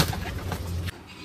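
A pigeon gives one short, soft, low coo in a garden, faint and brief, then falls quiet.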